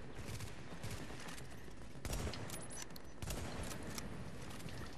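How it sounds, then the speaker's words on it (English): A deployed gun turret firing in The Division, a steady dense rattle of automatic fire throughout, fairly faint and distant, with a couple of heavier bursts standing out and no talk. "Throw my gun turret on there."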